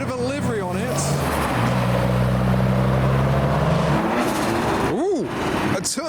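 At an outdoor car meet, a Nissan S13 rolls in with a steady engine drone, joined by another car revving up and down, all fairly close under excited talking.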